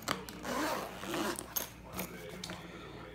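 The front pocket zipper of an eBags cooler lunch bag is worked in a few quick, faint rasping pulls with soft rustling between them, close by and quiet.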